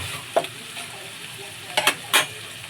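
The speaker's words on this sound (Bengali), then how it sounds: "হালকা করে ভেজে নেব" Grated coconut fries lightly in a little oil, giving short sizzling bursts and scraping stirs of a spoon in the pan, three quick strokes close by and no talk.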